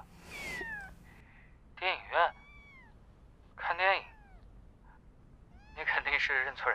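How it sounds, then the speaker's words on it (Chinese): A kitten gives several short, high, falling meows in separate bursts, close to the mic and fairly loud. A voice is briefly heard just before the first meow. "小猫，对啊，粉丝送的，特别可爱"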